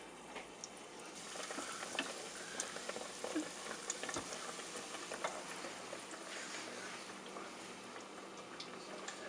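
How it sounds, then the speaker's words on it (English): A Pop-Tart deep frying in a deep fryer, a steady fizzing, bubbling crackle of hot oil with scattered sharp pops, quiet and continuous throughout. "Put it in the deep fryer, smooth it back out,"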